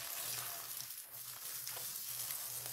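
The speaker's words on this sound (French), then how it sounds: "ajoutez un oignon haché. Et n'oubliez pas les 2 gousses d'ail hachées. C'est le moment de faire sauter tout ça." Chopped onion and garlic sautéing in a frying pan, a steady soft sizzle and crackle heard close up with faint stirring, no voices.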